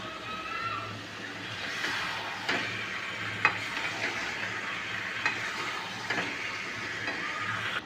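Meat sautéing with spices and onions in a pan gives a steady, moderate sizzle. Occasional sharp scrapes and clinks of stirring break through it, and no one speaks.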